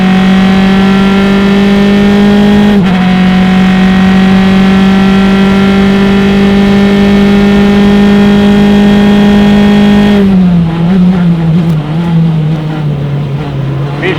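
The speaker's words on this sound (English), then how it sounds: "Thomas Metcalf in that Formula Mazda with the rotary power, belching flames out the exhaust pipe." A Formula Mazda race car with a rotary engine, racing at Mid-Ohio, holds a loud, steady high-pitched buzz at near-constant revs. It dips briefly once, then drops pitch late as it passes.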